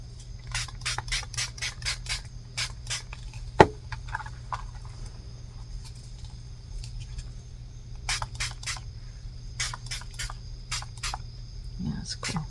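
Water from a handheld spray bottle hits momigami collage paper in two bursts of rapid, sharp spritzes. They are close and crisp, separated by a quieter gap, over a faint steady hum.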